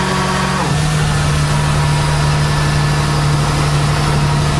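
A Darley CAFS fire pumper engine runs loud and close, its pitch dropping early on as it settles into a steady, droning idle hum with no talking.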